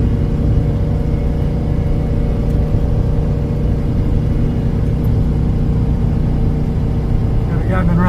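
An old low-geared truck engine drones steadily as it downshifts and labors up a steep grade, a continuous loud mid-pitched hum heard from inside the cab, with faint sounds near the end.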